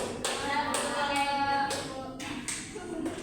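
Hands clapping in a children's tepuk clapping game during a classroom teaching session, a run of sharp, fairly regular claps close by, repeated several times over a background of voices.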